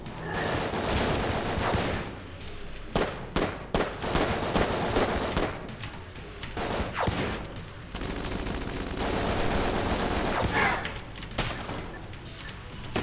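Rapid gunfire and bullets in the video game Enter the Gungeon, dense bursts of repeated shots in clusters with brief pauses, fairly quiet overall and steady against a busy game background.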